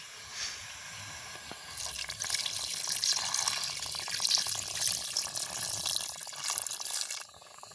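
First-press milk pours into cassava porridge in a pot, a close, steady liquid splashing and trickling that runs for several seconds before cutting off.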